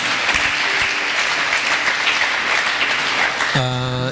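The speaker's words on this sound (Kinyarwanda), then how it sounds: "Nagira ngo iyo Mana tuyiha amashyi." Congregation applauding in praise to God at a church service, steady dense clapping throughout; a sustained sung or organ-like tone enters near the end.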